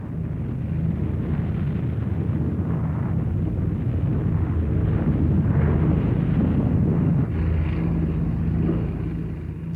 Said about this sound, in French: le B-29 Enola Gay largue une bombe atomique sur Hiroshima.